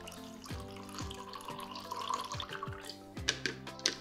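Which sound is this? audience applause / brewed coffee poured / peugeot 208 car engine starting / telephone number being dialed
brewed coffee poured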